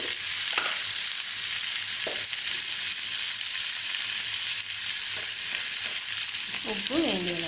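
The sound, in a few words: frying tomatoes in a pan for tomato gravy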